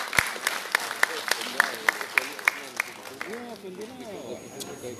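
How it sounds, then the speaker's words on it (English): Audience applause at an oil and gas forum, a run of sharp distinct claps from a modest crowd that thins out and fades as voices take over toward the end. "Please give a round of applause as well."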